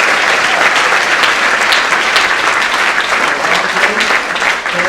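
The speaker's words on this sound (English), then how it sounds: "Let's give them both an applause." A school assembly audience gives loud, sustained applause for two election candidates, a thick continuous roar of clapping holding steady before easing slightly at the end.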